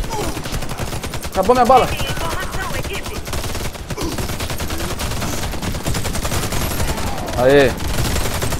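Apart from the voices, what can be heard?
gunfire in video game Warface zombie mode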